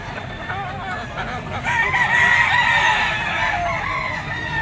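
A yellow-legged bull stag rooster crows among gamefowl at an open-air pet market, one long drawn-out crow rising over the crowd noise and background chatter.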